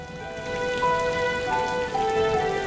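Steady rain patters across the ground in the video game The Silver Lining, a dense, continuous hiss of drops with a faint sustained tonal layer running underneath, no voices.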